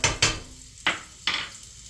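Garlic dropped into a hot skillet for chicken pesto, giving a few sharp hissing bursts of sizzle that flare and fade one after another, close and moderately loud with no talking.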